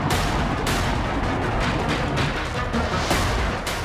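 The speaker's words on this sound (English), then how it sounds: "the Kinzhal hypersonic air-launched cruise missile, seen here smashing into a Ukrainian underground weapons depot" A Kinzhal hypersonic air-launched cruise missile strikes a Ukrainian underground weapons depot, heard as a dense, continuous roar of blasts and crackling explosions with several sharp bursts throughout.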